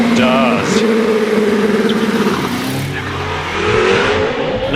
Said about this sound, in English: That's an ex-IndyCar engine, isn't it?